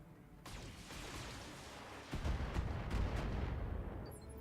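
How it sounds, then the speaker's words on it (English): Defensive turrets in the BattleTech game pounding away at enemy mechs: a dense run of booming artillery-like shots with a heavier, louder burst of impacts in the second half, no talking. "the turrets are slowly picking them apart"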